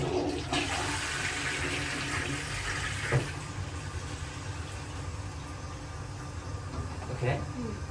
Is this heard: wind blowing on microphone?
no